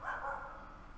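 A dog gives a single short bark in the Call of Duty: Black Ops video game, fairly faint and slightly distant, fading out within a second.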